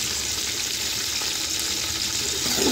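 Tomatoes and green chillies sizzle steadily in a hot pan of oil while being stirred for a matar pulao, a continuous close frying hiss with faint scraping and no voices.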